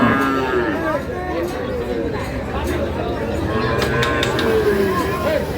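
A bull lows at a cattle market, drawn-out moos among livestock with people talking close by and crowd chatter underneath.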